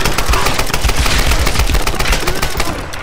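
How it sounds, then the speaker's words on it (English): Grenade launcher fire in the Tomb Raider video game, a loud dense burst of booming blasts and rattling gunfire sustained throughout with no pauses. "this grenade launcher is pretty powerful"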